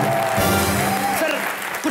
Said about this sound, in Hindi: एक बार रजत सर के लिए जोरदार तालियां